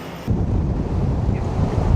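Pacific Ocean surf breaks against rocky shore at Depoe Bay, Oregon, as a steady, loud broadband roar with heavy wind buffeting the microphone. No distinct single wave crash stands out, and nobody speaks.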